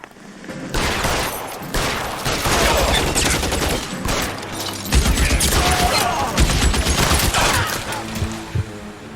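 Dense bursts of gunfire in an L.A. Noire police shootout, loud and continuous with rapid overlapping shots and booming impacts, no talk over it.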